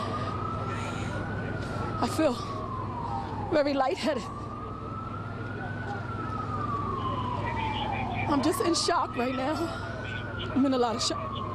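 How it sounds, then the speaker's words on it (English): Wailing police and fire sirens rise and fall continuously in the background at a train derailment on Manhattan's Upper West Side while a person speaks in an upset voice. "You can hear the sirens in the background of those interviews as police and firefighters arrived at the scene"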